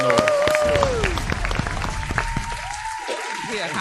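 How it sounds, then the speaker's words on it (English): A radio show audience applauds for Bishop. The clapping and crowd noise sit under voices and tonal sounds throughout, a busy, moderately loud mix. "give a Bishop a round of applause"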